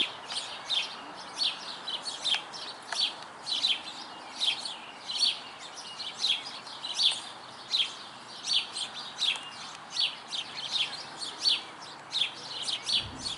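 Sparrows chirping in quick repeated bursts, a steady run of bright, close tweets with short pauses between phrases, continuing throughout with no other sound.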